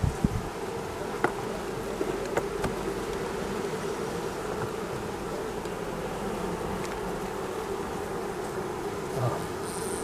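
Bees hum and buzz steadily up close in a dense, continuous drone, with a few light knocks and rustles.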